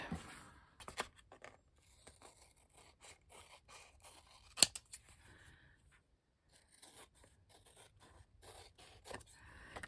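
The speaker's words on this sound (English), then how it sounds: "let's get our other scissors" Scissors snipping through paper scraps at a crafting table, a run of short, crisp cuts with brief pauses and one sharp snap, fairly close and quiet, with no voices.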